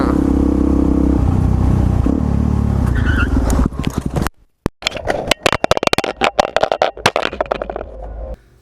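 A vehicle rides along with steady engine and road noise, then crashes into a car with a sudden cut and a burst of sharp clattering impacts and debris rattling, loud and close.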